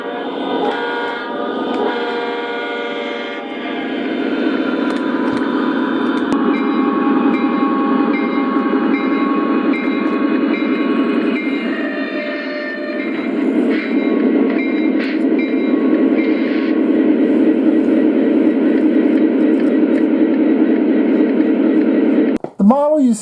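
Lionel Legacy EMD SD40 O gauge model diesel locomotive running with a steady humming drone and engine sound that holds for most of the stretch, ending in a brief horn blast, loud and close.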